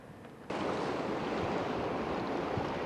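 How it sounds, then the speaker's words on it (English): Ocean waves wash onto the shore of clean, clear water on the Japanese coast near a small village, a steady surf roar that swells in after a quiet half second and continues unbroken. "Well, we made it to the ocean."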